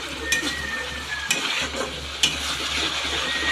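Chicken curry with tomato and sauce is stirred in a pan, giving a steady close sizzle with a few sharp spoon-scrape accents against the metal.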